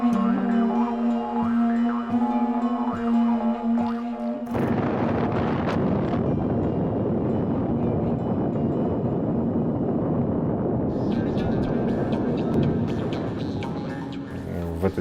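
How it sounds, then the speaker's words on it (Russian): Strong wind blowing across a sand dune on a very windy day, a loud continuous roar with buffeting against the microphone, after a few seconds of tonal music at the start. "В этот день стояла очень ветреная погода"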